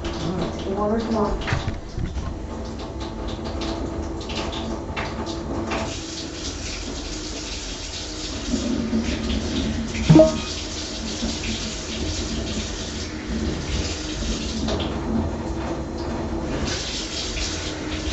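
Tap water runs steadily into a bath, a continuous rushing flow heard close under people talking, with a brief knock partway through.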